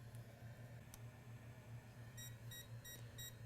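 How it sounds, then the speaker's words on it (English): A short voltage injection tool beeps in a series of quick, high electronic bursts during a repair of a Dell Alienware that won't power on, sounding over a steady low hum. "short voltage injection tool is beeping because we have a short"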